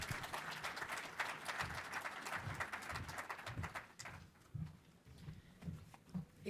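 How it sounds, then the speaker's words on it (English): Dense clapping from a crowd at a cybersecurity summit, steady and loud, thinning toward the end into scattered claps. "Give her a round of applause."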